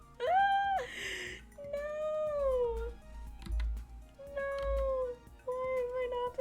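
A pet cat meows several times, with drawn-out, wavering cries close by and short gaps between them, alongside faint background noise.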